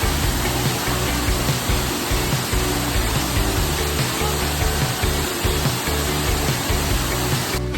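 Steady, dense roar of a waterfall heard up close, a broad continuous rush of falling water with no voices over it.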